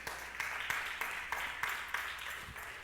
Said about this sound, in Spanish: Dele un aplauso poderoso a Jesús.